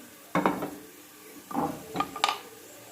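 Fried onions being scooped out of a pot onto a plate: a few scraping clanks of a spoon against metal and crockery in short bursts, close and moderately loud, with no talking.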